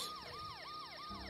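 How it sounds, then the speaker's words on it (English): Police siren in the video game Golf With Your Friends, a wailing tone rising and falling in quick repeated sweeps, clear and steady for a moment. "Why am I hearing police sirens?"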